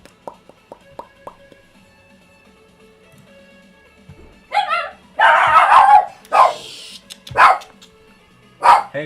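A dog indoors barks in a burst of loud, close barks and yips after a stretch of quiet clicking, with several separate barks spread over the last few seconds.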